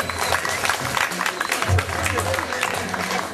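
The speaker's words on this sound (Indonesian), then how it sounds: "sekali lagi tepuk tangan yang meriah untuk Pak Sudut" A crowd claps in steady applause, moderately loud and continuous, with a voice speaking over it.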